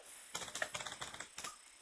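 Someone types on a computer keyboard in a quiet room: a quick, uneven run of soft, close key clicks with a brief pause near the end.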